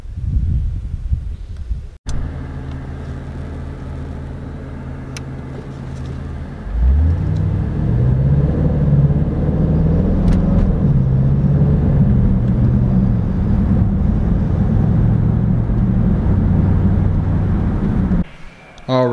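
An SVR car: a thump and a brief pause, then the engine starts up into a steady, close, low interior rumble that holds until near the end.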